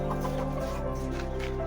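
Chickens on a poultry farm cluck continuously in a dense, loud chorus close by, with steady low machinery hum running underneath.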